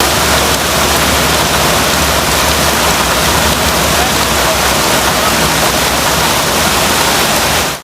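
Flash-flood water in Chapel Hill, North Carolina pours down like a waterfall, a loud, unbroken roar of rushing water that holds steady for the whole stretch.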